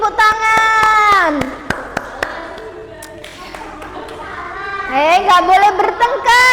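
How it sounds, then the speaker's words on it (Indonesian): Schoolchildren in a classroom clap their hands in a quick burst of claps mixed with children's voices and an adult speaking, close and lively. "Tepuk tangan."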